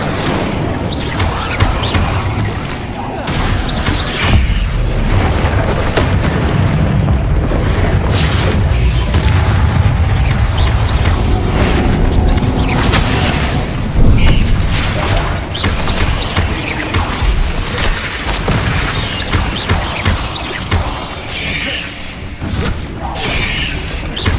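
Explosive Bombarda spell blasts in Hogwarts Legacy during a mine battle against spiders, loud booms and crashes layered with other spell effects and clanking in a dense, continuous combat din, with a voice casting spells over it.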